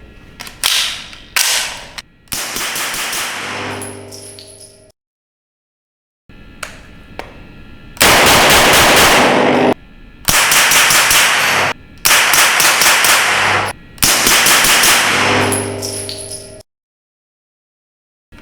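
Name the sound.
MP5 gunfire with SilencerCo Octane 9HD suppressor, short configuration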